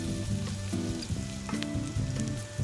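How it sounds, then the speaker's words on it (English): Garlic sizzling in a little leftover oil in a pan, a close crackling hiss under a steady background hum, with a few brief stirring clatters. "Then we're gonna throw in the garlic"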